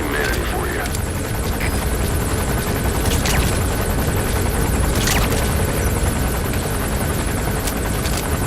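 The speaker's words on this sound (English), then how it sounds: "That's an enemy gunship." An enemy gunship helicopter in Metal Gear Solid V: The Phantom Pain, a loud steady rotor drone with choppy blade beating that runs throughout, with a voice speaking over it.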